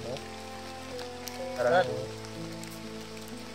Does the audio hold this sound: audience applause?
no